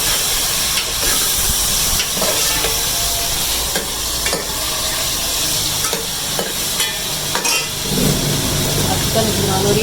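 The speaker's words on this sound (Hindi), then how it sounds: "चिकन भुना हो रही है।" Chicken sizzling steadily as it is roasted bhuna-style in a pan for a Punjabi chana dal chicken curry, a dense continuous hiss with scattered stirring clicks and scrapes throughout.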